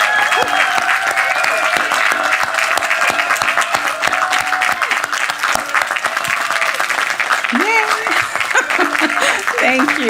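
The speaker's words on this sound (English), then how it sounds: "offer a genuinely enthusiastic round of applause to Sophia University's 2023 graduating class" Commencement crowd applauding the graduating class, with sustained, dense clapping throughout, a few cheers and laughs mixed in, and voices rising near the end.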